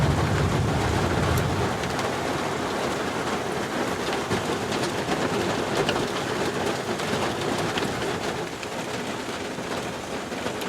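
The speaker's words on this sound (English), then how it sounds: "Folks, it is just absolutely pouring the rain." Heavy rain pours down hard and continuously on a car camping overnight trip, a loud, dense hiss with a low rumble of thunder near the start, no voices heard.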